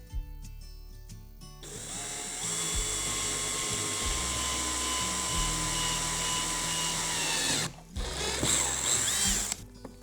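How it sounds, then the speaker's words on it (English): A power drill bores a new hole for an ATV off-road light mount, its high whine starting after a short pause and running steadily for several seconds, then breaking briefly before a second shorter burst of drilling. "I'm gonna have to drill a new hole here."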